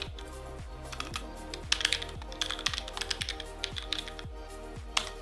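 Rapid, irregular clicking of a computer keyboard as a ChatGPT prompt asking for a C# method is typed, keystrokes close and crisp with no voices.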